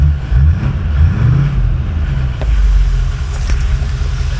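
A 2004 Ford F-250 pickup with the 6.0 Powerstroke diesel idles steadily close by, a deep continuous rumble with a slight swell partway through, and nobody speaks over it.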